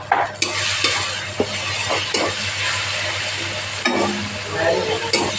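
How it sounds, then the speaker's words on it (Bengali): Spices being stirred into a boal fish curry in a pan, a steady sizzle under repeated scraping strokes of a spoon against the pan, close and fairly loud, with no voices. "তো এখন এটা ভালো করে মিক্স করে নিচ্ছি।"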